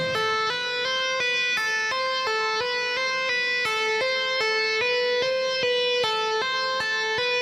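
Electric guitar playing a legato riff with the lower strings muted, a clean run of smoothly connected notes stepping up and down in a steady repeating pattern, close and alone with no background noise.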